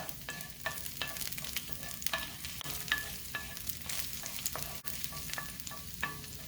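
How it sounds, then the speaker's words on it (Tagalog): Garlic sautéing in a pan for a Filipino ampalaya and sirloin beef dish, a steady close sizzle of frying with repeated scrapes and clicks of a utensil stirring throughout, no talking. "we're gonna have saute the garlic for a little bit para lalabas yung kanyang aroma"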